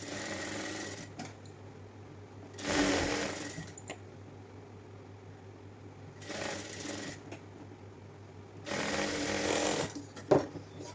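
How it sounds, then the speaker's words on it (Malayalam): A sewing machine stitches the neckline of a side-tie nightyfrock in three short, rapid whirring bursts separated by quiet pauses, close and fairly soft, with a steady low hum beneath. "ഒരു 1/4 ഇഞ്ച് ഗ്യാപ്പിട്ട് നമുക്കൊന്ന് അടിച്ചു കൊടുക്കാം"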